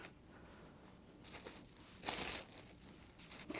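Sheets of paper crinkle and rustle in a kitchen as meat is set between them for pounding in Milanese-style Italian cooking, soft and close with a few brief louder crumples and no talk.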